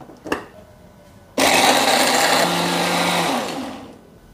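A blender grinds dipping sauce ingredients with warm water, starting abruptly after a brief clatter and whirring loudly and steadily for about two seconds before winding down.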